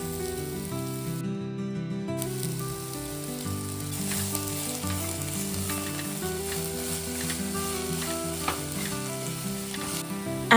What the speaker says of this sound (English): Add beans, carrot and cabbage and mix them well.